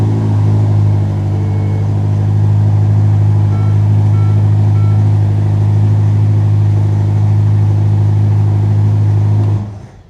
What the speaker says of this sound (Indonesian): Di sini langsung nyala aja, dan nyala itu langsung menyalak gitu, mesinnya tuh langsung terdengar buasnya di mobil ini.